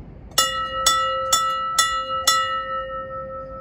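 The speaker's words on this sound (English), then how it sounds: "5 bells for star cluster!" Five bright bell strikes at even intervals at a nighttime astrophotography session, each ringing clearly and decaying, close and alone over faint background hiss.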